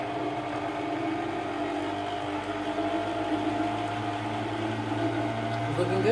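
Sugar-free hazelnut chocolate spread being mixed with erythritol, a steady low motorized whir running evenly throughout, close and moderately loud, like a mixer or blender working the spread.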